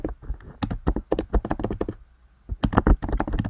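Rapid typing on a computer keyboard, close and clear, with dense clusters of key clicks, a short pause in the middle, then another quick burst of keystrokes.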